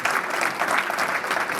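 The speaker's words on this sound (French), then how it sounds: "je vous demande une fois de plus d'applaudir très fort pour lui" Wedding guests at Marie-Noëlle and Jules's wedding ceremony burst into loud, steady applause, a dense crowd of clapping hands sustained without a break and with no voices over it.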